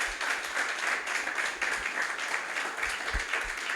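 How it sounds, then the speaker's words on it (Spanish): A church congregation bursts into applause, a thick steady wash of many hands clapping, fairly loud and continuous with no talking over it. "Denle un fuerte aplauso al Señor."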